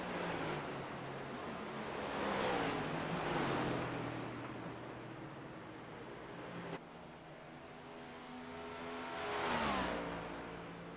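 Racing-game car at a superspeedway revving hard through a burnout, engine pitch sweeping up and down in repeated surges, with a second rev climbing near the end; steady broadband roar throughout.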